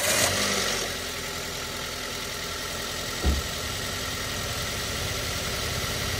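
A Toyota Avanza engine idles at high revs while parked with a cooling-system problem, giving a steady, close mechanical drone with a single brief thump midway and no talking.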